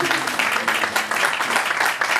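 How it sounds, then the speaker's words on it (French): Applause from a comedy show audience, a dense steady patter of many hands with faint voices mixed in, sustained for a couple of seconds. "Par applaudissement, s'il vous plaît."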